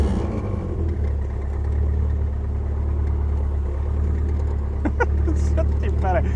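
A 1964 Mini Moke's small engine runs steadily at a near, constant rumble throughout, with a voice talking over it toward the end.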